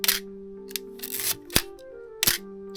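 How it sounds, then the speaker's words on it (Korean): Crisp mechanical shutter clicks from a Nikon FM2 manual film camera, several short sharp snaps with faint winding and mechanical whirring between them, close and quiet. "이 카메라 특히 이 셔터음이"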